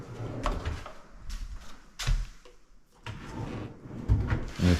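A drawer for storing control material slides open and shut in a work area, giving a few wooden thumps and scraping slides at close range, with no talking.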